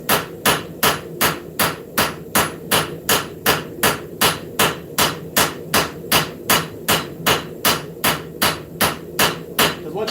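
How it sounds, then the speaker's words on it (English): A hammer forges a multi-metal gomai billet with loud, evenly spaced blows, about two or three per second, a steady ringing rhythm of roughly two dozen strikes. "You really want to be forging even on both sides with this."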